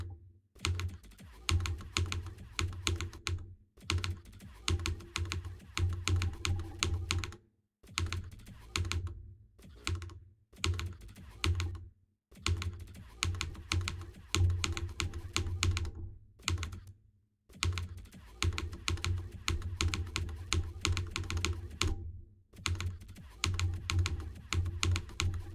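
Rapid computer keyboard typing with dense clicking bursts that run almost continuously, broken by a few short pauses, close and fairly loud with no talking over it.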